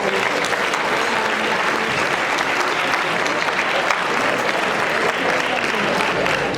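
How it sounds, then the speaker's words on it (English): A full round of applause from an audience at a Hall of Fame awards luncheon, thick and continuous with many hands clapping at once, loud and close throughout. "May we give them another round of applause?"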